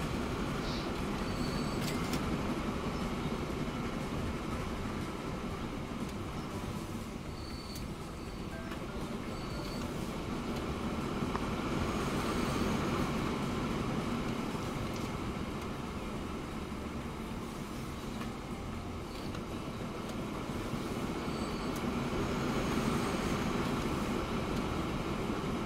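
Trains crowd a full station in the video game Transport Fever 2, giving a steady, loud bed of rolling rail and wagon rumble with faint higher hums and clanks throughout.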